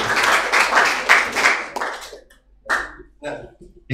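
A brief round of hand clapping from an audience in a classroom-style logic game session, a dense burst of claps that fades out, followed by a few scattered claps and quiet voices.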